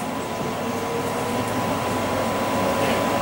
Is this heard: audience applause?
no